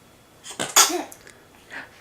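A baby sneezes once, close up: a short breathy intake, then a sharp small burst, followed by a faint breath or sniff a moment later, with no talking.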